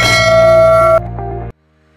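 Notification bell sound effect: a bright, loud metallic ding that rings briefly, drops to a softer tail, then cuts off abruptly into silence.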